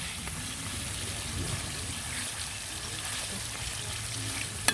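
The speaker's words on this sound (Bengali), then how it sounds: "এদিকে আমি এগুলো তেলের মধ্যে নাড়াচাড়া করে নিচ্ছি" Meat frying in oil as it is stirred in a home kitchen pan, a steady close sizzle with soft scraping and stirring movements throughout.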